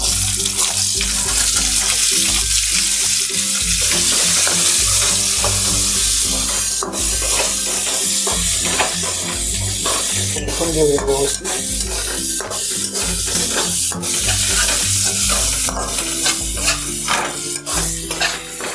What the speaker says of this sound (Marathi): आणि दोन दोन टीस्पून जिरे टाकून घेऊया आणि चॉप केलेला कांदा घालून घेऊया